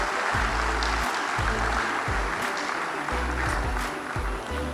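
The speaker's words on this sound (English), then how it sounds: "Please clap for our customers for their patience" An audience at a corporate presentation claps for customers in a continuous, even wash of applause, with low rumbling thumps and faint voices underneath throughout.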